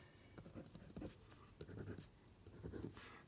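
Handwriting on a surface gives soft scratchy strokes in short bursts with small gaps, quiet and close.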